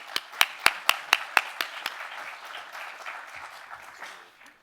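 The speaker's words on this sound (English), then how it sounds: "please join me in a round of applause for Jeff Marutian" A keynote audience applauds as the speaker Jeff Marutian is introduced, opening with several sharp, evenly spaced claps up close before spreading into a steady wash of clapping that slowly fades.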